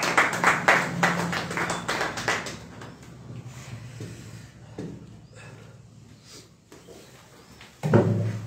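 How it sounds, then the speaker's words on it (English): Hand clapping in a classroom during an English language training session, a burst of sharp claps at the start that thins out and fades into a quiet room, with a loud thump near the end. "Clap."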